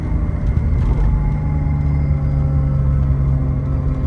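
BMW 735i driving on the road, a steady close interior engine hum and low rumble with constant road noise, no speech.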